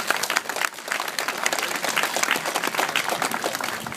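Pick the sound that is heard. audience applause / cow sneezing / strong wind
audience applause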